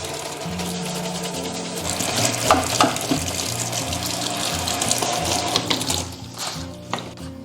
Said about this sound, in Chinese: 准备一些粽子叶，我们给它刷洗干净。